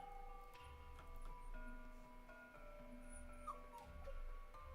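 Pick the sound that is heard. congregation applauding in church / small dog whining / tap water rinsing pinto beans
small dog whining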